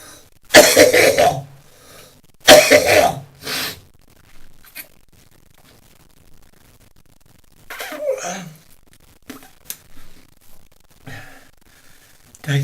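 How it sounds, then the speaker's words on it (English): A person coughing up phlegm, with two loud, close, harsh bursts of coughing early on, then several quieter, scattered coughs and throat clearing over a quiet background, with no talking. "we're back to coughing and bringing up phlegm"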